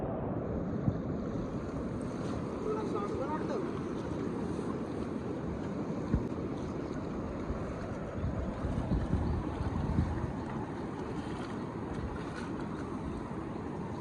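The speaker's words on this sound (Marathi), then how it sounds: "पूर बघा मित्रांनो किती जोरात आहे" Strong floodwater rushing past, a loud, continuous broadband roar that holds steady throughout, with gusty wind buffeting the microphone and a few brief thumps mixed in, no one speaking.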